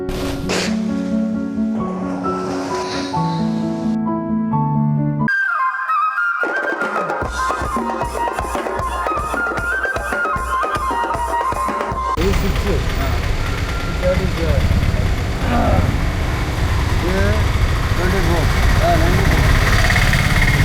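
A passenger boat on Vembanad lake, Kerala: after a stretch of music, a steady low engine rumble with broad rushing water noise fills the rest, continuous and fairly loud.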